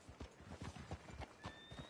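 Horse hooves clip-clopping in the video game Red Dead Redemption 2, a steady walking rhythm of soft thuds against a wet, rainy background hiss, with a faint whinny-like tone near the end.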